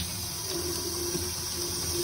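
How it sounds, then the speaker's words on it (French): Running tap water pours steadily over fine-haired liner paintbrushes as they are rinsed, a continuous close splashing hiss without pause. "tous les pinceaux traceurs à poils fins, on le rince comme il faut"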